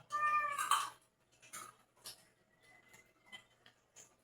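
A single clear cat meow at the start, followed by faint scattered clicks and light tapping sounds.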